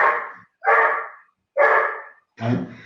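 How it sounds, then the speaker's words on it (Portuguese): A dog barks four times in a steady series, each bark loud and close with short silent gaps between, heard alone without talk. "Tem um cachorro aqui querendo participar."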